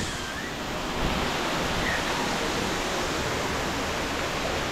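Loud rushing water roars near a hillside temple at Lonavla, a dense, constant hiss like a waterfall or torrent that fills the whole moment with no pauses and no voices.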